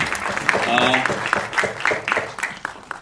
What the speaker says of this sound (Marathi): एकदा जोरदार टाळ्या होऊन जाऊ दे.